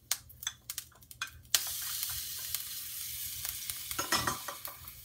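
Garlic for chicken fried rice hits a hot pan after a few quick stirring scrapes and breaks into a steady sizzle, quiet and close, with more utensil clinks near the end.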